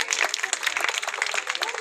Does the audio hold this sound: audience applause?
yes